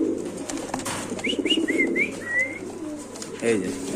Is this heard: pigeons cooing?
yes